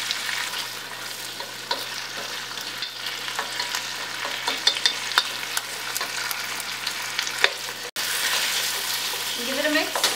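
Green and red chillies and vegetables stir-fry with vinegar in a hot pan, making a loud steady sizzle with frequent clattering stirs and a brief drop before the hiss surges back.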